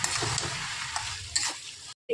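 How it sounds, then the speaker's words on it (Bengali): Boiled potato and pumpkin sautéed in a pan, a close, moderate sizzle with a few scraping stirs, cutting off briefly near the end before resuming. "সেদ্ধ করে নেওয়ার পর আমি একটু এগুলো আরও একবার ভালো করে কষিয়ে নেব"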